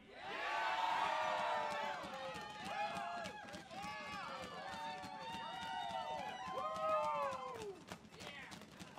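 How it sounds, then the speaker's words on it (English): A crowd cheers and whoops at an outdoor rally in bitter cold, with shrill shouts rising and falling over several seconds and talk mixed in. "Awesome, another huge round of applause for Brad."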